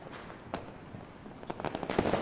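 Firecrackers burst in a film scene as a scattered series of sharp cracks, a few early and more clustered toward the end, fairly faint against a background murmur.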